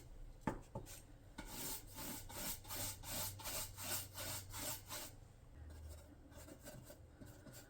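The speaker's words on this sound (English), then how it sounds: "we're going to wax this up, and we will add a little bit of dark wax also" Wax being rubbed by hand onto an Ikea cabinet, a close, steady back-and-forth scrubbing with a quick rhythmic beat through the middle, then slowing into softer, fainter strokes.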